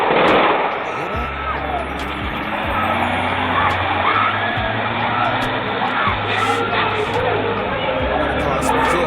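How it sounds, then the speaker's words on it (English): A car engine roars and speeds off outdoors, caught on surveillance footage, with chatter and traffic noise around it and a few sharp thumps. "The car speeds off."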